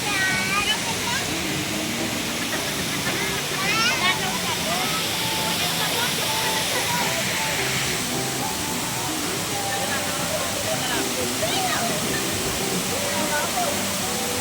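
Water rushes and roars below Wawa Dam in Montalban, Rizal, in a steady, loud torrent, with faint chirps and distant voices over the constant wash.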